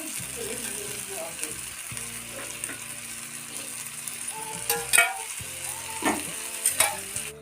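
Chicken pieces fry in oil in a pan, a close steady sizzle under a low mechanical hum, with sharper clatters and spatters bursting out toward the end.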